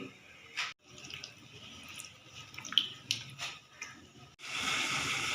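Half a cup of water is poured into tomatoes cooking for a koyla karahi biryani, giving quiet, scattered splashes and trickles that swell into a steadier rush of pouring at the end.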